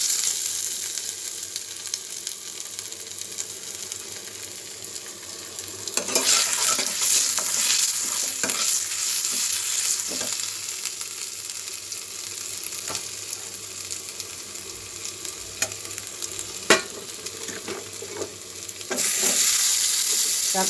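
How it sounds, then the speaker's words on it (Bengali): Radhuni seeds and ginger crackle in hot oil for a vegetable shukto curry, a continuous close sizzle with occasional utensil clicks and stirring scrapes, growing louder partway through. "এবার একটু রাঁধুনি ফোড়ন দিলাম"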